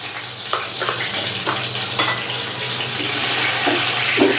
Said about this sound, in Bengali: বন্ধুরা তেলের মধ্যে আমি দিয়ে দিচ্ছি, আমি এখানে নিয়েছি তেজপাতা, এলাচ, দারুচিনি আর কাবাব মশলা।